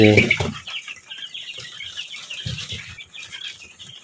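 A loud hen cluck opens, then softer clucking and faint high peeping of chicks continue close by; the chicks are native (deshi), coloured bird and tiger chicken chicks.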